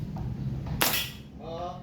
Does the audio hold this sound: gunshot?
yes